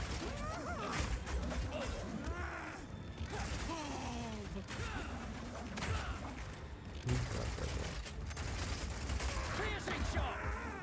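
Piercing Shot skill firing in Path of Exile 2, a game heard as a dense run of sharp, rapid gunfire-like impacts and mechanical clatter, steady and loud throughout the clip, mixed with game effects.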